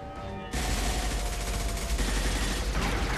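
Sustained, dense gunfire from a firefight in Mass Effect 2, loud overlapping shots and rapid bursts blending into a continuous roar, preceded by a brief quieter moment.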